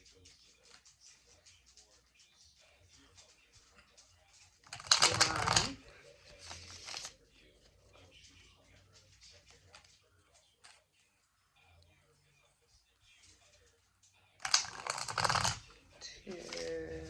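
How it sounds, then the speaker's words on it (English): Tarot cards are shuffled by hand in two loud, crisp riffling bursts, separated by quieter handling and someone speaking softly between them. "Okay, 3 more shuffles."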